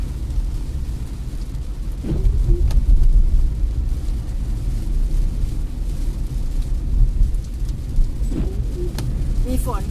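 Heavy rain heard from inside a car driving inbound on Sukhumvit road near Bang Pu, Samut Prakan, a steady wash of rain and tyre noise with engine rumble, and someone talking over it.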